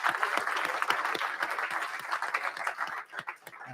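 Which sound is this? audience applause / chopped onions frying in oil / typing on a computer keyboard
audience applause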